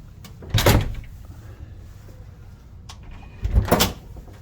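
A just-tightened door swinging shut, with two solid thumps about three seconds apart over a low background hum. Nobody speaks.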